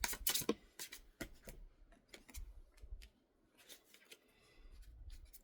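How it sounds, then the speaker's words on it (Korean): Tarot cards snap, slide and shuffle as an extra card is drawn from the deck, with sharp crisp flicks at the start followed by softer rustling and tapping close by. "3번님은 상대방을 어떻게 생각하는지에서 추가 카드 하나 더 뽑아 보겠습니다"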